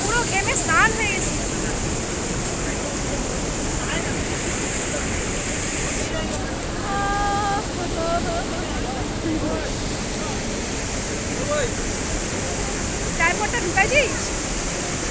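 Steady broadband rush of a mountain waterfall and cold stream water, loud and continuous throughout while people talk over it near the microphone.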